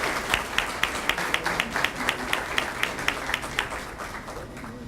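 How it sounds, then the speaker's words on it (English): Steady applause from a crowd at a school partnership breakfast, many hands clapping together in a sustained, even patter that carries on without voices. "give them a round of applause for Grace Church"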